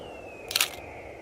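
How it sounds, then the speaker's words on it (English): A single crisp shutter click from a Canon EOS R7 mirrorless camera, close and brief, standing alone against a quiet background. "just press the shutter all the way down."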